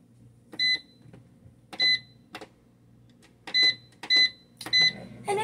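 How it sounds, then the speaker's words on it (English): Air fryer control panel beeping as a 13-minute timer is set, with six short, clear electronic beeps at irregular intervals, close and distinct over a quiet background hum. "Then air fry for around 13 minutes."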